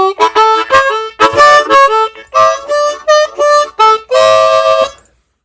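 A blues harmonica lick played slowly, with bent 3-draw notes sliding up to a held 4-blow, separate tongued phrases in a steady rhythm, close and loud with no talking.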